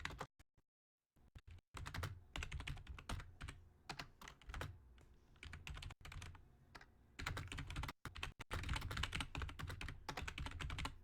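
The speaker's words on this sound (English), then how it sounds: "I apologize for the typing" Someone types on a computer keyboard in dense, rapid bursts of keystrokes with a few brief pauses. The sound is close but quiet.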